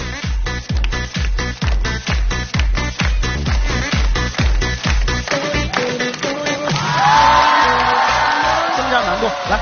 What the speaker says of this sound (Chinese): 鼓鼓掌来